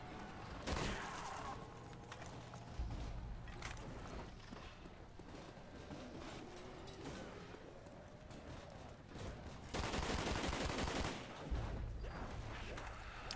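FN FAL gunfire in Call of Duty Black Ops, sharp rapid bursts of in-game shots, the loudest volleys near the start and again toward the end, mixed with game effects and clattering footsteps.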